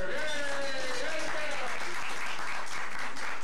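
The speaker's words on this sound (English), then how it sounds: "hey, clap for everybody" Audience applause at a company dinner held at the Lemp Mansion, a steady wash of clapping that runs the whole time, with voices and a sustained tone sounding over it.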